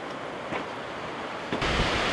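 Strong wind blows across a rugged hiking trail in Clear Creek Canyon, a loud continuous rushing roar buffeting the microphone and surging near the end.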